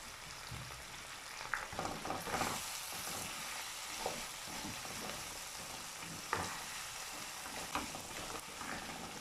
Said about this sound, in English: so now I will be adding the gizzard now. The pepper is well fried.